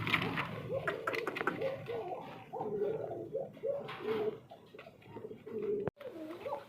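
Pigeons at a breeding farm coo in repeated low, throaty phrases close by, overlapping one another, with a sharp brief knock near the end.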